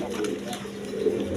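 Red Gorra pigeons coo steadily at close range, a soft low continuous murmur with no talk over it.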